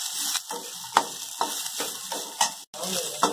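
Ingredients for mutton kulambu are sautéed in a pan: close, rhythmic scraping strokes of a spoon stirring over a continuous sizzle of oil.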